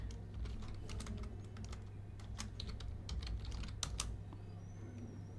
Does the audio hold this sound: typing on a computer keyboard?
yes